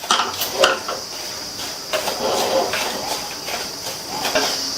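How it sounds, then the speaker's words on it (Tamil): Semolina roasts in oil in a pan as a spoon stirs it, giving close, repeated scraping and light metallic clinks over a faint hiss, with no talking. "நம்ம எடுத்து வச்ச ரவையை இதில் சேர்த்துட்டு மிதமான தீயில வச்சு இந்த ரவையை கருகிராம நல்ல வாசனை வர வரையும் வறுத்துக்கலாம்."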